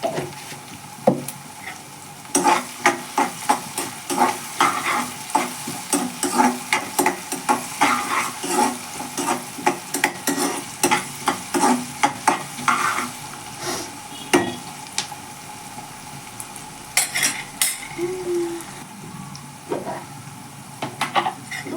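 Onions frying with salt in a pan, a steady sizzle with repeated scraping and stirring strokes of a spoon against the pan, close and loud throughout with no talk.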